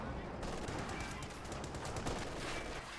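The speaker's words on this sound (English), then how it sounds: "MG42 gets good suppression, but he's getting suppressed in turn." MG42 machine gun fire rattles in a World War II strategy game cash match with Sherman and Panzer IV tanks, dense rapid bursts and scattered shots under a constant battle din, with commentary talking over it.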